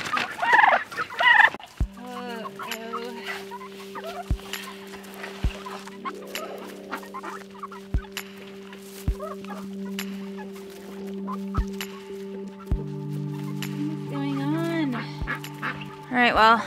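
Backyard homestead chickens and chicks cluck and chirp in cold weather, close and moderately loud, with scattered calls and sharp taps over a steady low electrical hum.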